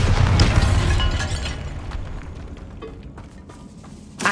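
A Bombarda blasting spell erupts in Hogwarts Legacy with a loud, close boom that rumbles and decays over a few seconds into scattered debris pops, followed by a sharp burst at the end.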